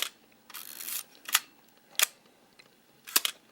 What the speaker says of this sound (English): Now this one has a very different shutter, if you're noticing.